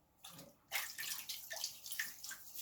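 Water splashes from a sink or basin as a man wets his face before shaving, a few quick splashing and dripping bursts, close and fairly quiet.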